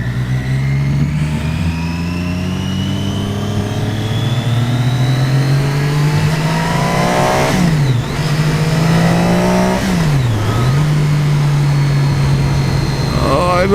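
A motorcycle engine drones steadily while riding, its pitch rising and falling with shifts in speed, loud and close throughout.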